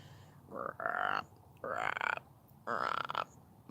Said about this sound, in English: I actually heard tree frogs or I don't know, maybe just regular frogs.